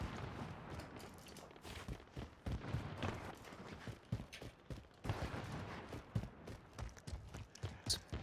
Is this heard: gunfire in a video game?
yes